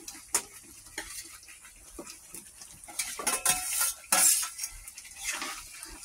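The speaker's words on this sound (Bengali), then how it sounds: "এখন আমরা এই চিকেনগুলো এর ভিতর দিয়ে দিলাম" Chicken pieces go into a pan of spiced masala for a roast and are stirred, with intermittent scraping and clinking of a spoon against the pan over a soft sizzle, louder toward the middle.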